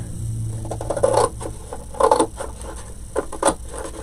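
Scissors snipping through craft material to cut a door hanger shape, a few irregular crisp cuts and scrapes close by, with no talking.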